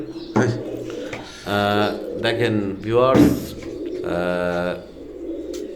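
KTM teddy pigeons coo in a series of low, throaty bursts close by, with someone talking in between the calls.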